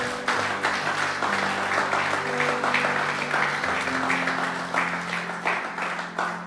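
A church congregation at a French-language worship session applauds the Lord, with steady sustained clapping and cheering over a held organ or keyboard chord throughout.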